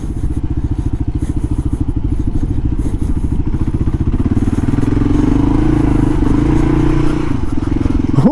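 A 2005 Kawasaki KLR 650 labours through very soft sand, its single-cylinder engine giving a loud, close, rapid thumping throb that rises in pitch and intensity toward the end, with no speech over it.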